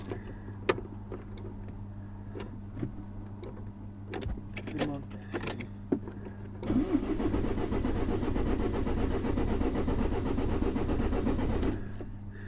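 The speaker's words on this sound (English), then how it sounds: "Please start cranking." A car engine cranks during a compression test with an AutoDitex i-tester, a steady rhythmic churning that lasts about five seconds and then stops. Before it come quiet clicks and a person talking.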